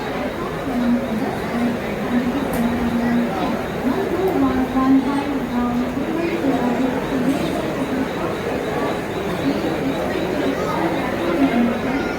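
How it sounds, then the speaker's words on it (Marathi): Dadar railway station in Mumbai is busy on a platform, with a dense crowd murmur and chatter that does not stop, distant train rumble and an occasional announcement-like tone under it. "दादरचं स्टेशन आहे दादर दादर रेल्वे स्टेशन"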